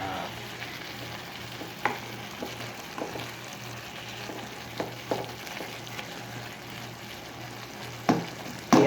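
Ampalaya and chicken breast fry in a pan with oyster sauce, a constant low sizzle with scattered clinks and scrapes from stirring, close up and with no talking.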